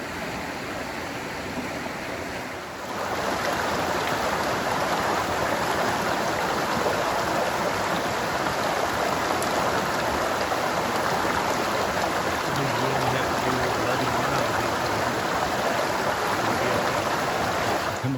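Wind River rushes beneath a small footbridge along a long-distance hiking trail, a steady, close, full-bodied wash of flowing water that swells in after a brief quieter moment and continues without any talking.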